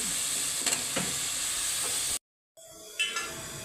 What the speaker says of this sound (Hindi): यहाँ पे मुझे मसाला भूनते हुए 2 से 3 मिनट हो चुके हैं।